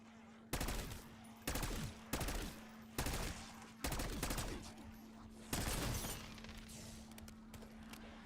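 Bursts of AR gunfire in Call of Duty Warzone come in about six rapid volleys with short gaps, over a steady background hum, fading toward the end.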